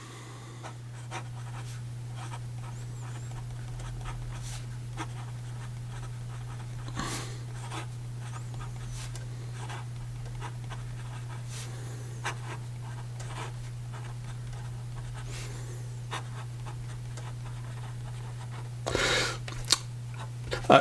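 A music-nib fountain pen scratches across paper in faint, close strokes over a constant low hum, with a few louder scrapes near the end.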